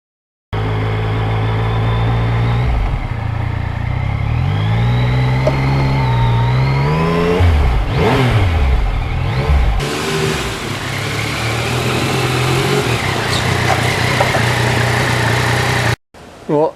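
A 2020 Yamaha MT-09 motorcycle being ridden with a new windscreen on a windy day: a loud, steady engine drone with rising and falling revs through gear changes, heavy wind noise throughout, and an abrupt cut near the end.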